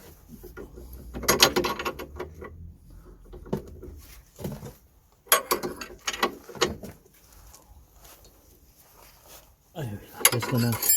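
A ratchet tightens a 24mm nut on a Ford Transit CV joint during a replacement job: short, separate bursts of clicking and metallic cranking with quiet gaps between them, fairly close and moderately loud.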